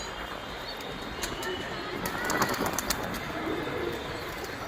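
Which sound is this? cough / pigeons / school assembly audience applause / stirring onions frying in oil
pigeons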